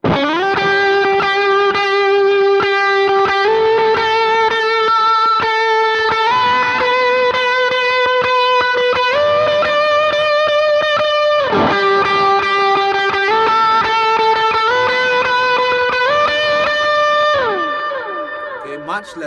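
Electric guitar lead played through a Vox AC30 preset set with less reverb and slightly lower drive, sustained overdriven notes stepping through a melodic phrase with a few slides, loud and close, trailing off on a final held note.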